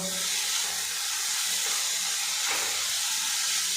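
Bitter gourd pieces frying with salt, turmeric and cumin powder in a pan give a steady, close sizzling hiss that holds throughout, with no talk.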